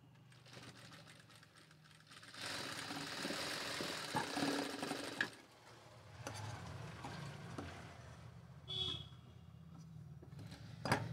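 A sewing machine stitches a saree blouse at the shoulder joint in a steady mechanical whirr for several seconds, followed by quieter intermittent runs and handling noises.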